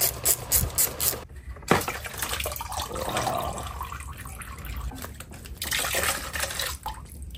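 Coolant drains from the coolant lines of a crashed 2019 Suzuki GSXR-750, a close, continuous splashing trickle of liquid with bursts of pouring and dripping, and no talking.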